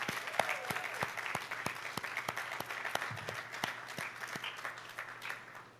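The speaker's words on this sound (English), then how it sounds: "Give her another round of applause." Audience applause at a school graduation ceremony for the valedictorian, a crowd clapping steadily for several seconds, with individual claps standing out near the front.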